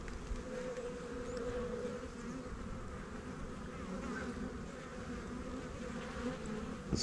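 Honey bees buzzing in a dense, continuous hum inside an open hive during an inspection, close and steady with no talking.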